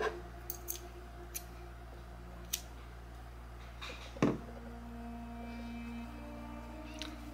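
Scissors snip crochet yarn close by: a few faint clicks, then one sharper cut, in a quiet room with a steady low hum and no talking.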